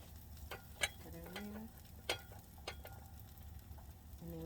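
Butter melting in a pot for chili gives a faint, quiet sizzle, broken by a few sharp clicks and light utensil knocks against the pot.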